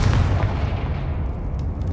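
A spell blast in the Hogwarts Legacy video game: one heavy, booming explosion hits at the start and rolls off into a decaying rumble, loud and alone with no talk.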